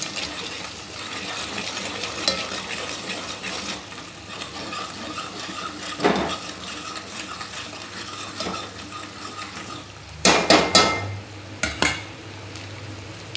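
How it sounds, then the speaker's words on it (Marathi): Pav bhaji vegetables sautéed with red chili powder, turmeric and salt, a low steady frying sizzle under scraping and stirring, with sharp clinks of a spoon against the pan, loudest in a quick cluster near the end. "लाल तिखट, हळद आणि मीठ हे टाकून घेऊ. त्याला पण चांगलं परतून घेऊ."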